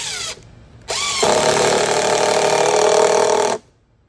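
Power drill driving a second screw into a wooden farmhouse bench: a short burst, a pause, then a loud steady whine of about two and a half seconds that cuts off abruptly, close up with no talking.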